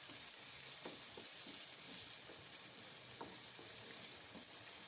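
Almonds and raisins frying in desi ghee, a steady close sizzle with occasional soft stirring clicks and pops, no voices.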